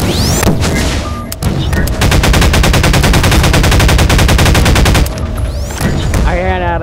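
Loud, rapid automatic gunfire from the video game Garry's Mod rattles in a sustained burst of evenly spaced shots, with briefer bangs before and after it.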